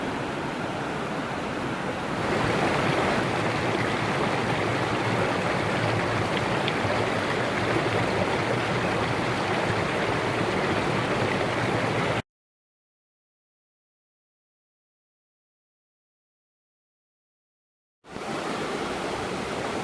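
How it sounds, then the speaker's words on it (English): The upper drop of South Harper Creek Falls in Pisgah National Forest roars as a steady broadband rush of falling water, loud and close. It cuts to silence for several seconds before the roar resumes. "This is the upper drop of South Harper Creek Falls"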